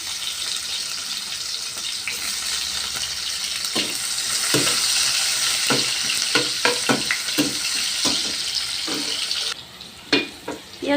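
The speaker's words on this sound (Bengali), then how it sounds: "পেঁয়াজ ভাজা হয়ে গেছে," Onions frying in a little leftover oil in a pan, with a steady close sizzle throughout and a few sharp clatters of stirring before it quiets near the end.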